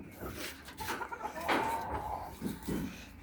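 Hens cluck softly in a rural yard in Noakhali, with a rooster confined nearby; irregular short calls rise and fall at close range over light background noise.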